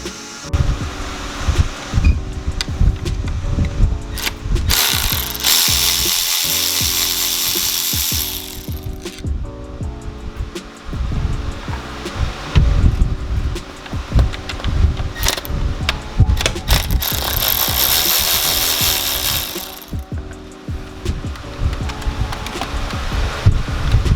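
A ratchet works screws loose from the charge pipe on a Toyota Supra, giving bursts of rapid clicking and mechanical rattling, close and loud, with no talk.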